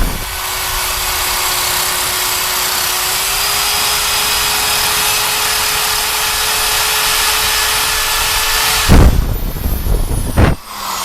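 A power tool grinds rust off the edge of a wheel rim while winter tires are mounted on a manual tire changer. It gives a steady, loud, even whine for about nine seconds, then stops, followed by a couple of sharp clunks.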